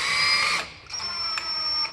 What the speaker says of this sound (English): I just take my drill, we screw the screws in.